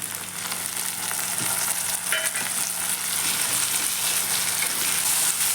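Chopped onions sizzle in hot oil in a pan, a steady, dense crackle and hiss with occasional stirring and no voices.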